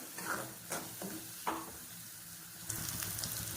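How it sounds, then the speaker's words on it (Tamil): A paste of pepper, cumin and coconut sautés in oil for a drumstick leaf curry, a low soft sizzle broken by a few spatula scrapes and taps, fairly quiet overall. "மிளகு சீரகம் தேங்காய் அந்த பேஸ்ட்டு நான் வந்து ஊற்றிக்கிறேன் இப்போ இதெல்லாம் நல்லா பச்சை வாசனை போக நல்லா வதங்கணும்"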